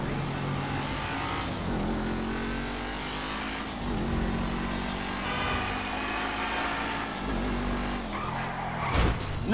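An Audi Q7 in GTA 5 drives along with a steady engine drone, the pitch rising and falling through gear changes and revving, ending with a brief louder burst near the close.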